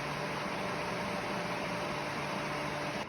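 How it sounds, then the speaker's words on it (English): A Ryobi 4-inch clip fan running on high, blowing away from the listener, a loud, even rush of air with a faint motor hum underneath, steady throughout before dropping slightly at the end. "This is the sound of the fan on high, blowing away from the camera."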